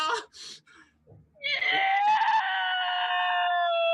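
A captain screams in a sci-fi comedy scene as a long-sealed vortex opens, a drawn-out, shrill, wavering cry that follows a few short vocal bursts and sustains loudly to the end.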